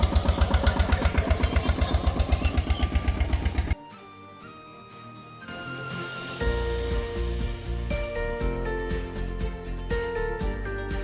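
A motorboat engine on a sunrise backwaters boating trip near Honnavar runs loud and close, pulsing rapidly at first, then dropping to a lower steady drone with another engine-like rumble building up toward the end.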